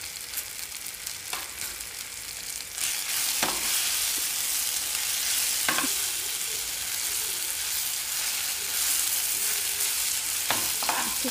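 Green chillies and ginger-garlic paste fry in a pan with a steady, close sizzle. A utensil stirs and scrapes against the pan now and then, and there is no talk.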